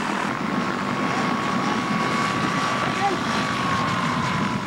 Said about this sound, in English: flex-wing microlights are steered by the nose wheel